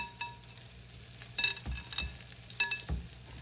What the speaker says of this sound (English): You just need enough just to fry them.